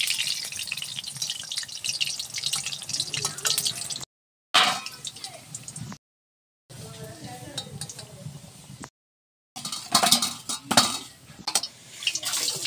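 Fried potatoes are lifted out of a pan with metal utensils, giving scattered clinks and scrapes of cookware amid light sizzling, broken by several brief silences and with a voice talking at times.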